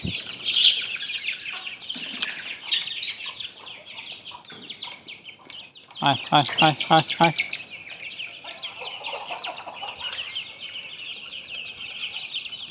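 Native desi chickens cluck and chirp on a home veranda, with a louder burst of clucking midway. A person calls out to the birds.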